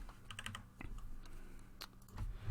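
Computer keyboard typing at a desk, quick clusters of soft clicking keystrokes in short bursts with pauses, fairly close and moderately quiet, with no talking.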